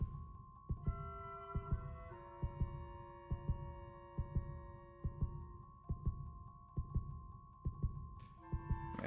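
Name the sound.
heartbeat sound effect in One Piece anime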